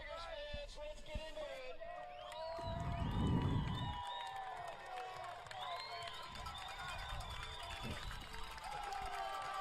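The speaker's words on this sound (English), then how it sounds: "For a 32-0 game, it is a loud and raucous crowd here in Halifax" Loud, raucous crowd at a Canadian university football game in Halifax, Dalhousie Tigers versus Hurricanes, swelling into a roar of cheering for a few seconds before settling into a steady crowd din, with an announcer's voice over it.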